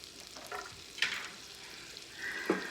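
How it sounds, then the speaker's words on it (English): Garlic sautés in a hot pan, a faint sizzle broken by a few brief scraping stirs of a utensil, heard up close with no one talking. "We're gonna saute that around until the garlic gets fragrant"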